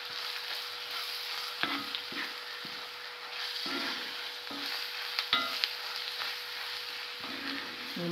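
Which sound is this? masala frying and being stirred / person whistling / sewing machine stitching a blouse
masala frying and being stirred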